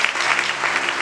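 A congregation applauds at an evangelical church service during Holy Spirit week, giving a brief, dense burst of steady clapping that fills the room at close range.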